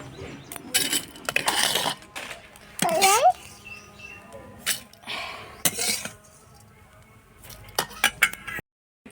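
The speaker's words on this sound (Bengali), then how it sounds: "সেমিয়া ভাজা হয়ে গেছে, আমি প্লেটে নামাই নেব।" Fried vermicelli is scraped out of a pan onto a plate, giving a close series of irregular metal clinks, scrapes and taps with short pauses between them.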